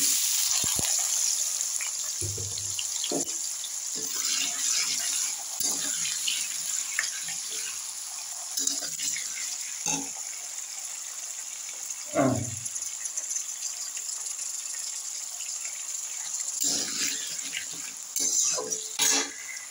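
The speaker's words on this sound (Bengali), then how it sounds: "আলু ভাজা চলছে" Raw new potatoes frying in hot oil in a pan give a steady, fairly quiet sizzling hiss throughout, broken by scattered clinks and scrapes of a utensil.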